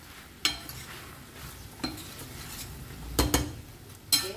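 Prawns chilli with spring onion being stirred in a pan, giving a few scattered spoon scrapes and clinks over a low steady sizzle.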